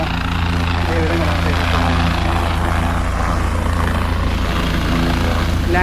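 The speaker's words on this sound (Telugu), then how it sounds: "ల్యాండింగ్ అవుతుంది హెలికాప్టర్." A helicopter landing at a helipad at the Medaram jatara, a loud, close, continuous rotor thrum and engine whine that holds steady throughout.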